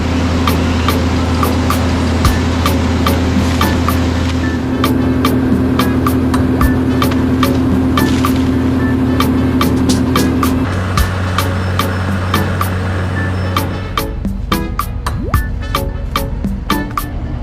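A bucket truck's engine idles steadily at a tree-clearing job on a country club, a close low throbbing hum punctuated by sharp repeated clicks and knocks, the engine note shifting partway through.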